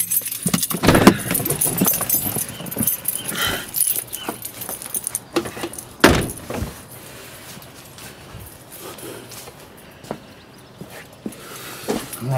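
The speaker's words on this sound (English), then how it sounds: "I've got to turn the car off so I can get the key out" Car keys for a Mini Cooper Clubman R55 jangle close by in short bursts while the car is switched off, with clicks and handling noises between them and no voices.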